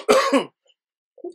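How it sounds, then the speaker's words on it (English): A person with a cold gives a harsh, close throat-clearing cough, followed after a pause by a second smaller cough, loud against silence. "Sorry for all the coughing"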